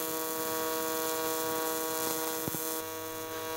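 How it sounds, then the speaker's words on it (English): TIG welding aluminum with a Miller Dynasty 200, sped up to double speed: a steady electric buzzing hum with harmonic tones, a brief crackle near the end, then a slight shift in pitch, close and without talk. "the welding sounds a little weird because I've got the video playing back at double speed"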